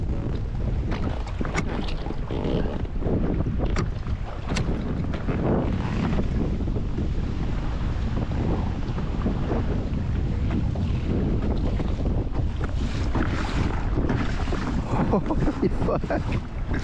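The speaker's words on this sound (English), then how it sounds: "Time to bust out the motor." A motor on a fishing kayak running over choppy open water: a constant loud drone mixed with wind buffeting and splashing waves, steady for the whole stretch, with occasional voices.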